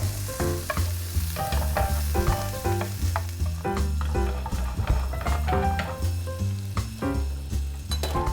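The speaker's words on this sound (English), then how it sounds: "You get a little bit of butter. And you just melt it, or maybe another little bit of butter." Prawns cook in a pan of melting butter with a loud, close sizzle, broken by repeated clatter and scraping as they are stirred and moved about.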